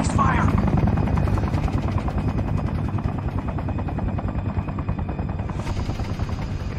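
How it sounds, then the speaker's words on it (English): An enemy helicopter in the video game Sniper Ghost Warrior thunders with a loud, continuous rotor chop throughout, mixed with bursts that resemble gunfire and in-game voices. "Enemy chopper!"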